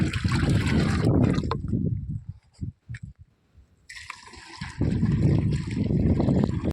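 A well water pump motor rumbles loudly over rushing water. The sound drops away for a couple of seconds, then returns at full strength.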